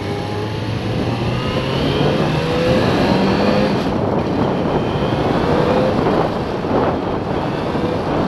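Yamaha FZ6R motorcycle cruising around the block, a continuous, loud engine drone with wind rush while riding, the revs rising and easing through gears, no talking.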